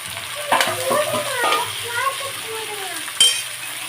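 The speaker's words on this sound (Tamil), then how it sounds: "இந்த ஸ்டேஜில் கட் பண்ணி வச்சுருக்கிற கொத்தவரங்காயை போட்டுக்கிறேன் நான்" Chopped cluster beans frying and sizzling in a hot pan, with a steady crackle, spoon stirring and scraping against the metal, and a brief clatter near the end; a voice speaks faintly beneath.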